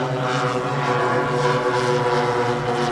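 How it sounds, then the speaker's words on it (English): A radio-controlled model four-engine bomber runs its four Merlin engines in a steady, loud, close droning roar with no break. "4 Merlin engines,"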